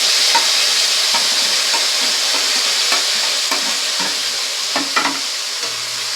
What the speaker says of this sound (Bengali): আদা রসুনটাকে ভালো করে একটু ভেজে নেব।